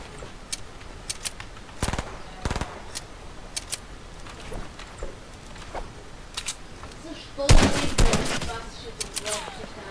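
Shooting in a squad shooter video game, heard as sharp, scattered single gunshots with a louder cluster of rapid shots near the end, over low game ambience.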